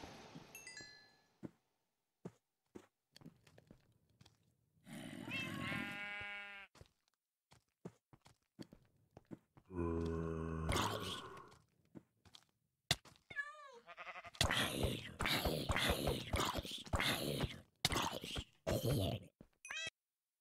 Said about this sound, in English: I'm sorry, Mr. Brown Sheep!